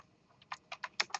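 Several quick keystrokes on a computer keyboard, typed in short irregular bursts close to the microphone during a programming lecture; no voices.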